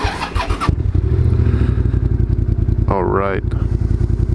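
A motorcycle engine catches and settles into a steady, throbbing idle to warm up, close and loud; someone speaks briefly at the start, and a rising whine briefly cuts in partway through.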